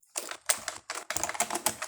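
Computer keyboard keys clacking in quick, uneven bursts while an email is typed, close and fairly clear with short pauses between runs of keystrokes and no talking.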